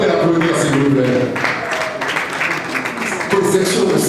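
Applause for Mr. Tony Coco at a foundation launch event, a crowd clapping loudly with bursts of cheering, partly mixed with voices.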